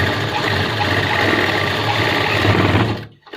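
A sewing machine runs steadily, stitching a wallet pocket piece onto pants. Its fast, even mechanical whir is loud and close and stops abruptly near the end.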